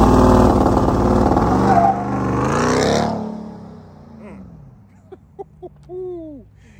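A Ram TRX pickup's 6.2L supercharged Hemi V8 revs loudly up to a roaring peak that cuts off, followed by quieter rumbling as it settles, then a few short sharp clicks and chirps.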